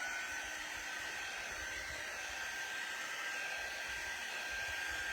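A hair dryer blowing on a cutting board, a loud, steady whooshing roar with a constant whine, close by and unbroken throughout.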